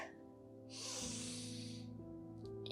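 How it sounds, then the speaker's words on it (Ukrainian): A deep yoga breath drawn in through the nose forms a soft, airy rush lasting about a second, set against quiet sustained background music. "Глибокий вдих"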